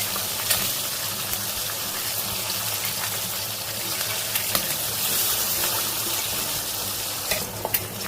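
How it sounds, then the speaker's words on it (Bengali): Katla fish fillets frying in oil in a pan for doi katla, a steady close sizzle with faint crackles and occasional sharper pops throughout, no voices. "এই একইভাবে আরো মাছগুলো ভেজে নেব"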